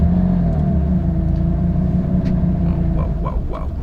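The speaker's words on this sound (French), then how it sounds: "Je vais faire un petit tour en Porsche 959." Porsche 959 sports car on a drive, heard from inside as a constant low engine rumble and road drone with slight rises in pitch, loud and close, and a few faint clicks near the end.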